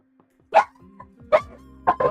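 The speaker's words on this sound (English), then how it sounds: "the dogs are going crazy" Several dogs bark in three separate bursts, fairly close and loud, indoors with a steady electrical hum underneath and no talking.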